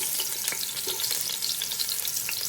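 Meat and onions sauteing in a pot for an Italian stracotto pot roast, a dense, even sizzle with occasional utensil taps and stirs, close up and without any voices.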